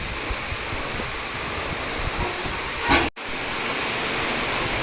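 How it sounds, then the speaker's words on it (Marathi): Heavy rain falls around a house under construction as a constant, close hiss of rain on surfaces, with a brief muffled dropout near the end before the downpour continues. "बघा ना केवढा पाऊस पडू राहिला"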